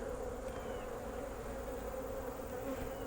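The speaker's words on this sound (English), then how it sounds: "look at all the bees in there coming up to feed" Honey bees swarm a Mann Lake hive top feeder, their steady close buzz droning without pause.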